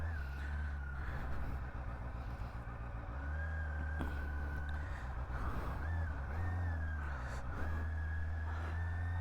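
A Honda CBR 650R motorcycle being ridden, its engine humming steadily and close, with the pitch rising and dropping several times as the rider works the throttle and gears, and no talking.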